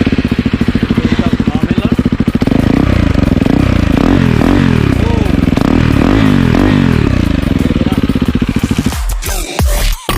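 A KTM Duke 390 motorcycle engine revving up close, loud repeated throttle blips rising and falling over a rumbling idle, then dropping off near the end.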